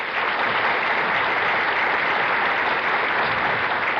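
A studio audience at a televised bowling game show claps steadily. The applause is a loud, even wash that carries on unbroken for about four seconds with no talk over it.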